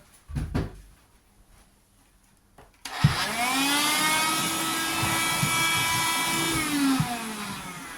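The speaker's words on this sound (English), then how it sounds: "Get the little hoover." A small handheld hoover vacuum cleaner switches on with a thump after a couple of quiet seconds and a brief knock, then runs with a steady loud whirring drone until the end, no talk over it.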